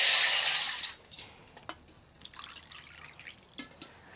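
Water is poured into a cooking pan on a lit stove, a brief splashing pour at the start, then faint scattered drips and small clinks.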